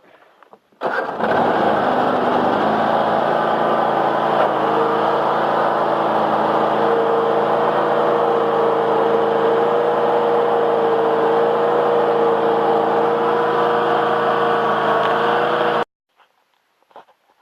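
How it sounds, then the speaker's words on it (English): An old tractor engine cranks and catches in a cold, icy garage, then settles into a steady, loud, continuous idle that runs unbroken for about fifteen seconds before cutting off abruptly. "See if this tractor will start back up."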